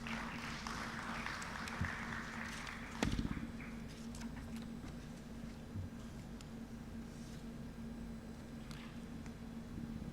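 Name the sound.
audience applause for the Honorable Minister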